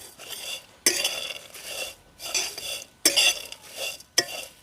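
Dry ingredients roasted without oil in a pan over a very low flame, with several sharp scraping stirs spaced about a second apart, each followed by a brief soft rustle, close and clear.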